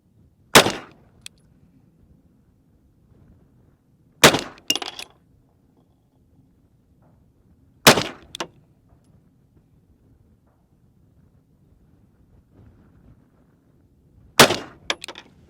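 Four pistol gunshots firing Winchester Ranger 147-grain hollow point defensive rounds, sharp loud cracks spaced several seconds apart with quiet outdoor range ambience between them.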